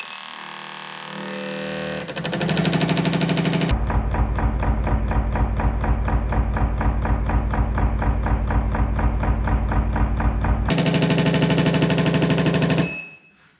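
Fuel injectors fire on a test bench at 1500 RPM, a rapid, even, loud mechanical ticking buzz that starts abruptly, holds for several seconds and cuts off near the end, with no talk.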